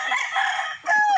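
A gamefowl broodstag rooster crows once, close and clear, a short bright call with a rising second part.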